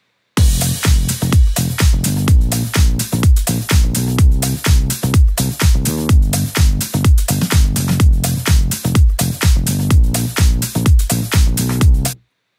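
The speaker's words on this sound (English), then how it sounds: "the bass line sounds like this, but maybe better with the beat, with the whole rhythm section" Funky disco house bass line in a Moto Blanco style remix, short plucked notes locked to a steady four-on-the-floor beat with the full rhythm section, loud and continuous with no voices.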